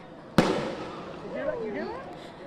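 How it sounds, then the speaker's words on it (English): During a street protest a firework is thrown toward a line of police and goes off with a single sharp bang, then echoes and scattered crowd noise carry on behind. "I see a firework being thrown into the middle of the police."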